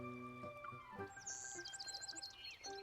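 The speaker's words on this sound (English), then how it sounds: "They chirp and chatter." Several birds in the video game Love and Deepspace chirp and twitter in quick, bright bursts, overlapping chatter that is clear and fairly close.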